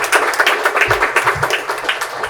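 Applause from a school audience for a high school's student of the month, a thin patter of claps that stays steady and fairly close for a couple of seconds.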